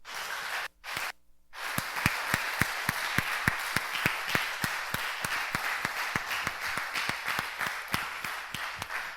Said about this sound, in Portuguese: Você pode aplaudir Ele por isso essa noite?